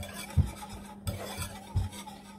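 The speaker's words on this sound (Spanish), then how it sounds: "voy a batir poco a poco para integrarla bien y se humedezca bien con la leche y el aceite" Cocoa being whisked into a batter of milk and oil gives soft, faint rhythmic scraping and tapping strokes in a bowl, close up, with low background hum and no speech.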